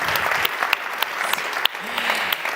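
An audience at a French theatre season-launch evening applauds Julie, a steady wash of many hands clapping with a few sharper claps standing out and faint voices underneath.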